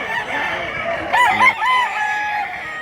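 A rooster, a running bullstag offered for sale at a Filipino backyard fowl stand, crows once near the middle, a short rising call over steady background clucking and bird noise.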